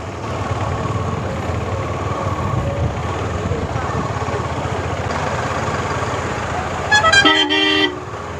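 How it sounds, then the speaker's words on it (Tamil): Heavy road traffic on a busy Sunday route from Madurai toward Rameshwaram, with a constant engine and road drone and a loud burst of several car horns honking near the end. "பயங்கர டிராஃபிக்காக இருக்குது."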